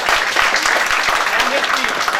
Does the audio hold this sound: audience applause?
yes